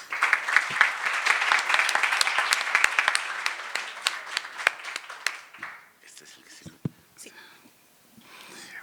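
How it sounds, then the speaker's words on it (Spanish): Audience applause greets a speaker at a legal lecture, a dense burst of clapping for about six seconds that then thins to scattered claps with murmuring. "les pido un fuerte y caluroso aplauso"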